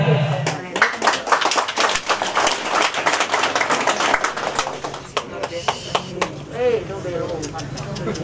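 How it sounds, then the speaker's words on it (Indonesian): Hands clap in sharp, irregular bursts at a community gathering of Ngada and Nagekeo people during a gift presentation, close and loud, with voices talking in between. "Mari kita tepuk tangan."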